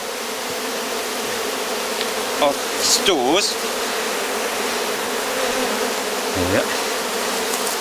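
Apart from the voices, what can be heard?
honeybees buzzing in a full hive box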